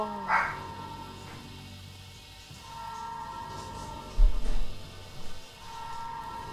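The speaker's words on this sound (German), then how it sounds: "oh, mein Hund macht gerade Terror." A dog barks as a single sharp bark near the start, with a few fainter yips later in a quiet room where game sounds play faintly.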